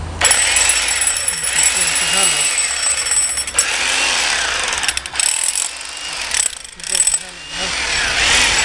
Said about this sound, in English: there, that one's ready to hammer now